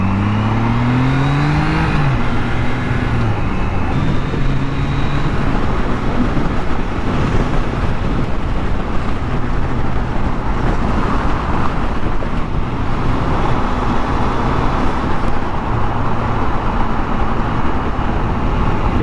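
Road traffic passes around a Triumph Trident 660 motorcycle in motion, a steady loud roar of engine and wind with a low engine note rising at the start, continuous throughout.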